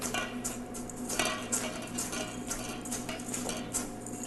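Homemade chicken nuggets are tossed in panko breadcrumbs inside a dish, giving soft repeated scraping and clinking of utensils against the dish, faint and busy throughout.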